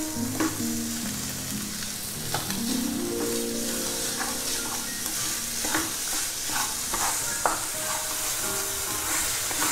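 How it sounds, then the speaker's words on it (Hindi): Grated bottle gourd (lauki) roasting in a pan for barfi, with a steady, close sizzle and repeated scraping stirs from a spoon, continuous and without any voices. "इसे हम 2 से 4 मिनट तक सेकेंगे"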